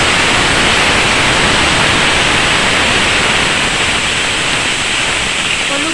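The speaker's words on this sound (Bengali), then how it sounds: "গরম তেলের মধ্যে এবার দিয়ে দেবো ফোড়ন, গোটা সাদা জিরে আর একটা গোটা তেজপাতা।" Whole cumin seeds and a bay leaf fry in hot oil, a steady dense crackling hiss that stays loud and even from start to finish with no pauses.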